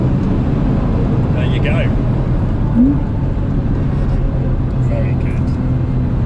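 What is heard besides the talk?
Porsche Boxster Anniversary Edition driving on the Nurburgring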